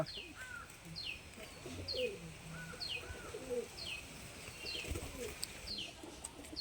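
Golden pigeons coo in repeated soft, throaty phrases, several birds overlapping at a steady rhythm, with higher chirps and tweets mixed in against faint background noise, no talk.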